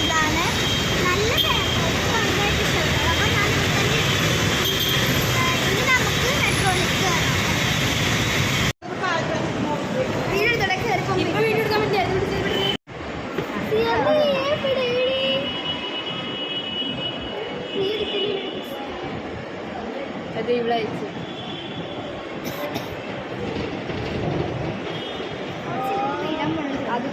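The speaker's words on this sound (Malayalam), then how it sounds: "അപ്പോൾ ആലുവ മെട്രോ സ്റ്റേഷനിലാണ്" Ambience at Aluva metro station in Kerala is dominated by a steady, loud rumble of a train and machinery. The sound briefly cuts out twice, then continues with quieter background noise and some voices.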